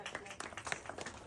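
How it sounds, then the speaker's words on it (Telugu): Small-group hand clapping at a first-birthday magic show at home. The claps come as a quick burst of close, sharp strikes, mixed with voices talking over them. "గట్టిగా గట్టిగా చప్పట్లాగా."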